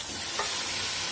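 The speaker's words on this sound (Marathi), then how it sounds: "तर त्याच्यामध्ये मी हे डाळ टाकून घेणार आहे।" Dal lentils tipped into a hot pan and stirred, giving a steady sizzle of frying with a soft scrape of the spoon partway through.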